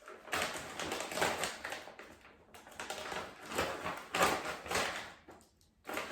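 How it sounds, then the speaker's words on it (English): A plastic bag of frozen potstickers is pulled open, giving several seconds of close, crinkly rustling in uneven bursts with short pauses. "Open a bag of potstickers."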